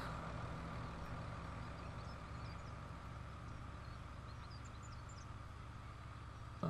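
A truck in Farming Simulator 17 rumbles with a steady, low engine drone as it is driven out of the way, staying constant and fairly quiet throughout with no talk over it.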